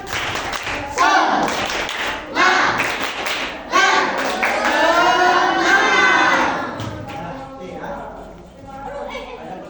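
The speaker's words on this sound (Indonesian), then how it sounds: "tepuk semangat" A school class in an Indonesian lesson performs a tepuk semangat, a rhythmic spirit clap: several bursts of patterned group clapping and tapping in sequence, fairly loud and close, mixed with voices chanting along.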